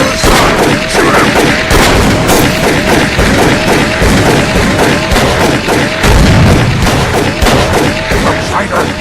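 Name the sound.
gunfire in the video game Call of Cthulhu: Dark Corners of the Earth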